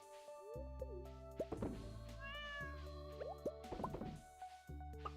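A cat meows in Stardew Valley, with several short, bright game meows over steady background music and small plopping sound effects.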